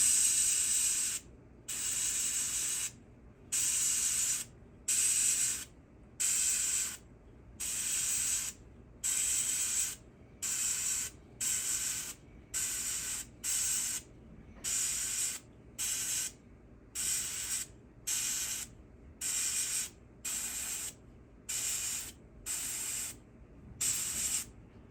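Airbrush spraying paint through a stencil onto a hen mallard duck decoy, heard as a close, steady hiss in about twenty short bursts with brief pauses between them, alone without talk.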